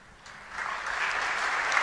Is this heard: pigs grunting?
no